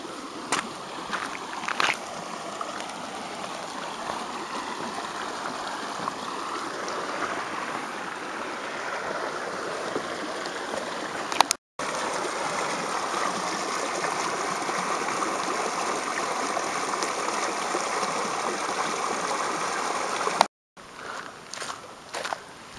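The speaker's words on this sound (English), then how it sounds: "we're actually walking in water, little waterfalls or rivulets going down to the creek" Small waterfalls and rivulets trickle and splash down toward a creek in rocky bushland, a steady close water rush with faint crunching footsteps through the water.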